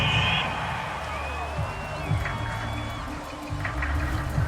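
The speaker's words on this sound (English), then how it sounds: "This home crowd, they're happy with that call." Home crowd at a football game cheers and roars steadily after a call on the field, a broad wash of voices at moderate distance with no words spoken.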